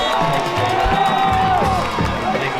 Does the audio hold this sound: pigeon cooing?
no